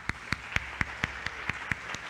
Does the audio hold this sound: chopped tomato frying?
no